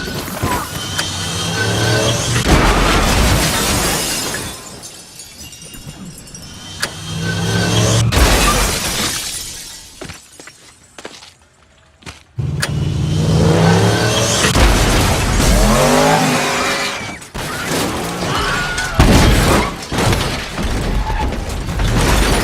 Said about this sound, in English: So there's our top 10 movie car crashes.